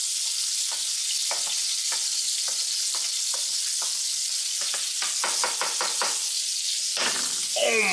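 Butter sizzles loudly in a pan with potatoes, a constant close hiss broken by a run of quick scraping and stirring strokes of a utensil against the pan, with no talking.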